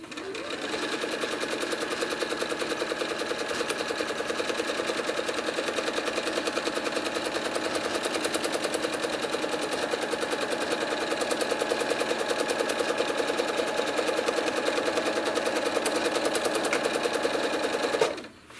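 A sewing machine runs continuously, stitching a spiral during machine quilting of a quilt, a steady close mechanical whir and rapid needle chatter for about eighteen seconds before stopping abruptly.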